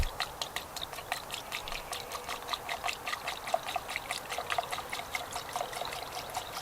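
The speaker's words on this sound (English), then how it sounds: "We're going to just pour some coolant in here." Coolant pours steadily through a funnel into a Subaru radiator during a radiator replacement, a continuous trickling, gurgling stream with small splashy ticks, close and fairly quiet, with no talking.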